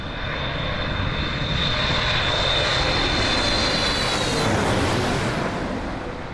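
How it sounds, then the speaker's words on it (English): A loud, roaring Cathay Pacific Boeing 777 jet engine passes close by, a steady broadband rumble with a whining high tone that swells and fades. "I managed to capture this Cathay Pacific Boeing 777."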